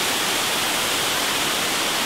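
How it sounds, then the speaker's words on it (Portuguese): A waterfall roars as a dense, steady rush of falling water, loud and close, with no voices over it. "Ó, oh, cachoeira!"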